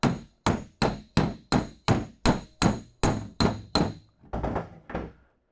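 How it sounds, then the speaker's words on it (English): Hammer on dolly striking a weld seam on the door bottom of a 1971 Dodge Demon, about a dozen sharp, evenly spaced ringing blows, loud and close, the last few softer. "you can hear that hammer on dolly, like high pitched ting"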